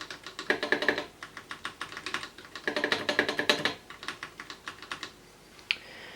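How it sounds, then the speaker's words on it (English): Typing on an Apple IIe computer keyboard, bursts of quick clacking keystrokes close by, pausing between flurries, with no talk. "here's our cursor, and I can type around a bit"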